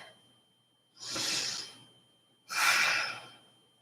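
Two slow, audible yoga breaths taken while holding a gentle seated twist, each a soft, breathy rush lasting about a second, spaced apart by quiet, close and clear with no talking.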